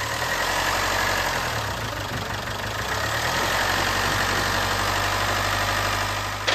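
A Jaguar F-Pace Ingenium engine in poor condition runs steadily with the accelerator pressed only lightly, a close, continuous low rumble and hum holding even throughout with a slight swell partway.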